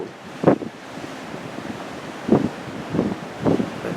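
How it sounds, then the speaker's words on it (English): Strong cold wind gusts across a ship's deck at night, with several distinct buffeting bursts against the microphone over a steady windy, ocean-like rush. "it is very windy out here"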